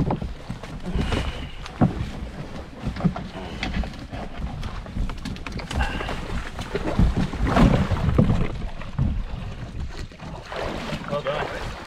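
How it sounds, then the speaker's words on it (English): Canoe paddles stroking through lake water in the Temagami backcountry, rhythmic splashes and dips over outdoor wind noise, fairly close and moderately loud. "These guys are testing out a new paddling technique."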